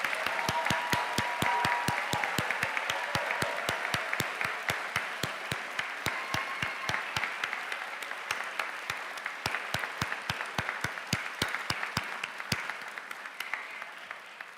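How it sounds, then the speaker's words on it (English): Sustained applause from a standing audience at a biomedical engineering graduation ceremony, with many hands clapping in a sharp, dense patter that gradually thins and fades over about fifteen seconds. "please stand with me and join me in an exuberant round of applause"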